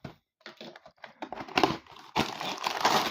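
Plastic wrapping and sticky tape on a Lego Street Roller set box being opened, close crinkling and scratchy tearing in short irregular bursts that grow louder and more continuous toward the end.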